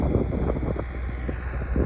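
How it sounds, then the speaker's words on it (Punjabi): A Farmtrac 6055 tractor with a 60-horsepower CRDI engine, pulling a fully set plough, runs with a steady, dense low rumble and no pauses. "ਤੁਸੀਂ ਆਪ ਹੀ ਦੇਖ ਸਕਦੇ ਹੋ ਪਰਫਾਰਮੈਂਸ ਇਹਦੀ ਟਰੈਕਟਰ ਦੀ ਤੇ ਬਹੁਤ ਸੋਹਣਾ ਚੱਲ ਰਿਹਾ ਬਾਈ"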